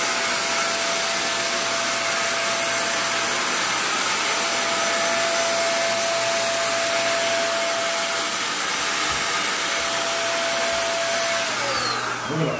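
Handheld electric paint sprayer running steadily throughout with a loud continuous motor whine and hiss of spray, a faint pitch drop near the end as it shifts or stops.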